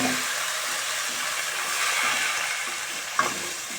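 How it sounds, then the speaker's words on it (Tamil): Ground tomato paste poured slowly into a hot pan over low flame for tomato thokku, giving a steady close sizzle and bubbling with a brief sharp clink near the end. "இந்த அரைச்சி வச்சுருக்க தக்காளி இதில் மெதுவாக ஊற்றிடலாம்"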